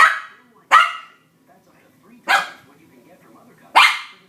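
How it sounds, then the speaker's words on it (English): A dog named Fluffy, a female, barks four sharp separate times, loud and close, with quiet pauses between barks, indoors while trying to reach Ritz crackers. "stop the barking"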